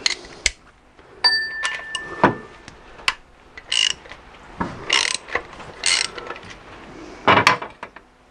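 Ratchet wrench loosening bolts on the 6.4-litre engine of a Dodge Charger SRT8 during camshaft work, with bursts of rapid clicking ratchet strokes and metallic tool clinks scattered across the clip, close and fairly loud, with no talking.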